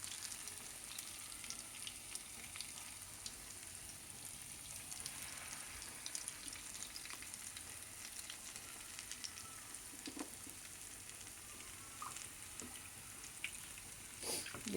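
Small rice-flour snacks frying in oil for iftar give off a faint, continuous crackling sizzle with a few sharper pops, quiet and steady with no voices.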